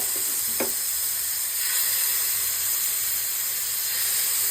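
Butter-brushed chicken breast pieces sizzle over a gas flame, a steady broad hiss filling the whole clip with a couple of faint knocks near the start and no talking.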